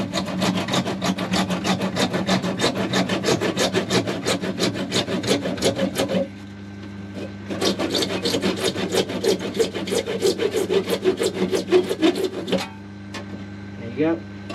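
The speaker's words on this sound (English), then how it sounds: "A video of a man sawing." A hand saw cuts through pipework for a Bakki shower on a koi pond, working in steady rapid back-and-forth strokes, close and loud, with a short pause midway before the rasping sawing resumes.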